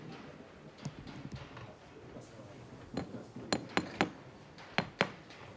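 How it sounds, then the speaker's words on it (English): A magnetic hammer tacks fabric onto a gold picture frame at a repair workshop: sharp, light metallic taps, scattered at first and then in quick clusters of two or three close strikes over a quiet room. "It's really useful having a magnetic hammer, because it means that I don't have to hold a tack and the hammer at the same time"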